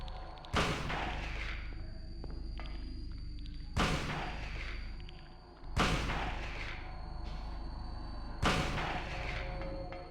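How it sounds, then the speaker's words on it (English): Shotgun blasts in the Silent Hill video game, four loud booming shots spaced a few seconds apart, each with a ringing decay over a steady low ambient drone. "Shotgun time."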